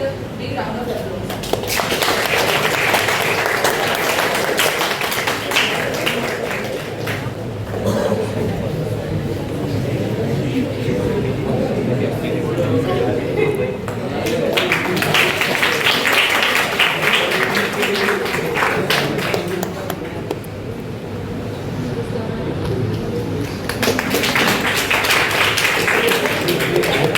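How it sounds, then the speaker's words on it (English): A seminar audience in a hall at a Women's Day cybersecurity event claps in several bursts that swell and fade, with a few lulls in between. Murmured voices run underneath. "Audience, please join me with a big round of applause."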